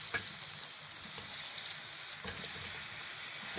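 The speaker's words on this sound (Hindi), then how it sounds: "और इसको हम थोड़ी देर फ्राई करेंगे कि ये अपना कलर चेंज कर ले" Chicken frying in a pan with garlic and ginger, a steady soft sizzle and crackle with occasional stirring clinks, faint and continuous with no talk.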